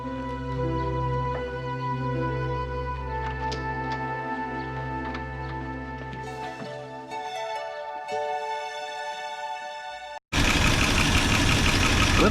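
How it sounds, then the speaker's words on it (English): A 1988 Dodge Power Ram engine idles with a noisy lifter, a steady low rumble with a light ticking on top, near and even; the engine then cuts off and a rush of wind-like noise follows. "Lifter's still a little noisy, but I mean, it'll probably come back around."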